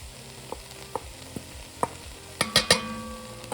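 Carrots drop into sauteing onions and shallots with a string of light clicks and knocks, and then a louder clatter of pieces hits the pan over a low, steady sizzle.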